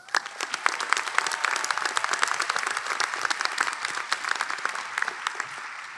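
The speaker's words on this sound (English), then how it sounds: "Class of 2026, let's give our loved ones a round of applause." A large pharmacy-school commencement crowd breaks into sustained applause, dense overlapping clapping that holds steady for several seconds with no talk over it.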